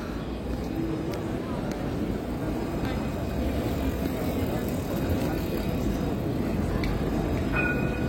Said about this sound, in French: Avec l'arrivée du tram